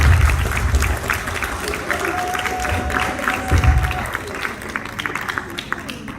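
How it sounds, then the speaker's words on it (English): An audience applauds at a 30th anniversary celebration at the Shri Surya Narayan Mandir temple, a dense, continuous wash of clapping with some crowd murmur and a few cheers, holding steady. "Let's give them a big applause."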